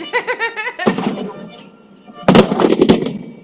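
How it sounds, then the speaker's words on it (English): A voice, then a short burst of crackling, popping fireworks explosions after a quiet gap, fairly loud and close, at a dockside welcome for a finishing Vendée Globe sailor. "And yet more fireworks."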